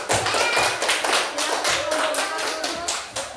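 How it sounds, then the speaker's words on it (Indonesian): Schoolchildren in a classroom applaud a presenting group, clapping in a quick, fairly even rhythm that stays loud and close, then thins out near the end. "beri tepuk tangan untuk kelompok 2"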